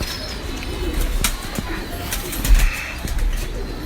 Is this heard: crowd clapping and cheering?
no